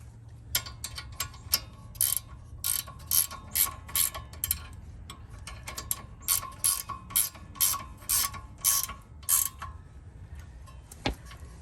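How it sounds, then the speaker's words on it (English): Quick bursts of metallic ratchet clicking repeat in a steady back-and-forth rhythm as a gear wrench is cranked during a rear wheel bearing install on a 2014 Kia Soul, close up, with a faint mechanical hum beneath. "Now we're going to use a gear wrench on this one."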